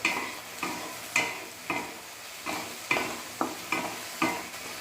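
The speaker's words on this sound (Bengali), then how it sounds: "হলুদটা দিয়ে আবারও ভালো করে সব কিছু মিক্স করে নিচ্ছি" Taro being stirred with turmeric in a pan, a spoon scraping through the pieces in repeated strokes about every half second, each stroke a soft scrape over a low background sizzle, close and alone.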